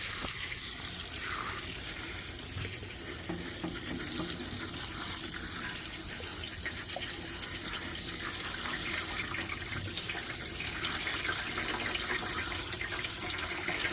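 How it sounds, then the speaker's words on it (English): Steady rush of water pouring from a tap, continuous and fairly close, with no voices over it. "Turn the water on."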